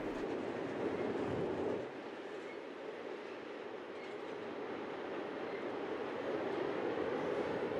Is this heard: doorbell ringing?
no